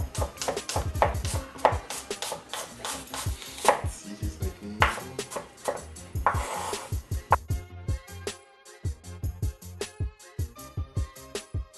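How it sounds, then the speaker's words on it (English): A knife chops onion on a cutting board in quick, sharp, rhythmic taps, close and loud, with bursts of rapid strokes and short pauses, later changing to a scattered knocking of kitchen sounds and no talking. "I'm going to cut up a little bit of onion to give it the salty tartness."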